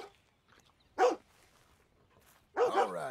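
A dog in the Red Dead Redemption video game barks twice, with two clear, fairly close barks about a second and a half apart against near silence.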